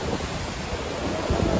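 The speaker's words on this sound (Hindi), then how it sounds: "ऊपर से ये जो झरना आ रहा है" A waterfall pours beside a narrow wooden plank bridge on a mountain road toward the Har Ki Dun trek in Uttarakhand. It makes a loud, continuous roar with wind-like rumble, and no one speaks.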